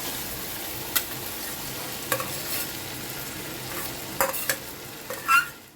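Shredded boiled chicken and mashed potato stir-fry in a pan with turmeric, a constant sizzle with scattered scraping and clinking of the spoon.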